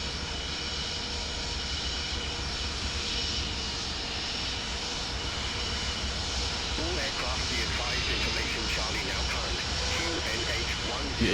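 Airliner jet engines in Microsoft Flight Simulator taxiing to the runway, a steady loud whine and roar that holds throughout, while someone talks over it in German.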